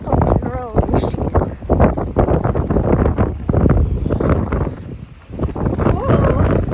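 Strong wind buffets the microphone on a Lake Erie beach at Sterling State Park in Monroe, Michigan, in gusty low rumbles while a person talks throughout.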